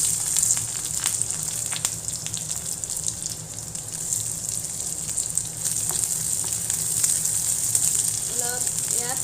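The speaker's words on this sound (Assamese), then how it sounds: "অলপ এয়া পিঁয়াজখিনি গল্ডেন ব্ৰাউন হ'বলৈ দিব" Sliced onions and potatoes sizzle steadily in hot oil in a kadai, a constant close hiss with occasional small pops and faint clinks continuing throughout.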